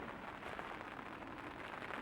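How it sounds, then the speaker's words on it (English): Steady rain falling outdoors at a carp fishing spot in winter, a faint, even patter with no voices. "If the rain doesn't sort itself out, I will have to stay here because I won't be moving in the rain"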